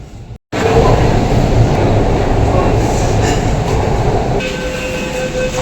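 A Kolkata metro train runs loudly and steadily close by, a continuous roar of wheels and carriage rumble after a brief drop at the start, with a faint tone near the end.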